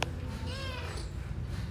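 A blue-eyed kitten gives one thin, rising meow up close over a steady low background rumble.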